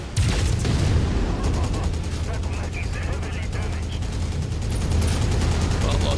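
A mech in MechWarrior 5: Mercenaries fires its machine guns in rapid, unbroken bursts over a deep rumbling battle din, loud and close, with a voice talking faintly underneath.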